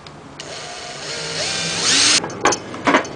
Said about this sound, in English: You need to drill in a hole in it for your cord.